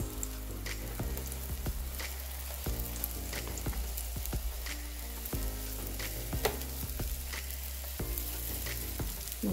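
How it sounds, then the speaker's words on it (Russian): Mini pies of thin curd dough with strawberry filling fry in a little vegetable oil over medium heat, a steady close sizzle with frequent crackles and spits throughout. "Жарятся они быстро, потому что на среднем огне."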